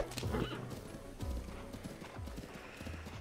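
Horse in the game Breath of the Wild gallops with quick clip-clop hoofbeats and gives a sharp neigh at the start, its hooves thudding close and fairly loud.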